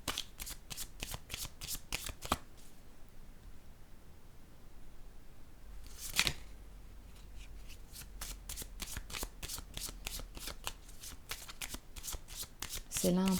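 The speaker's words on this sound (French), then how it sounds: "Je vais piger une carte ici." Tarot cards being shuffled by hand: rapid runs of crisp riffling clicks in bursts, with a louder snap partway through as a single card is drawn, close up.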